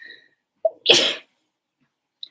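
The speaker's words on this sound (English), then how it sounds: "I sneezed out dust" A single sharp sneeze bursts out close to the mic after a short inhaled catch, followed by quiet with a faint click near the end.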